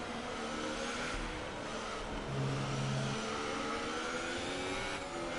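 A racing car engine in a video game revs continuously with a steady droning whine, stuck in a sustained high rev with only slight rises and dips.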